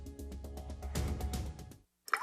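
Water dripping, a series of soft plops and liquid trickles recorded close, fading to silence before one last faint drip.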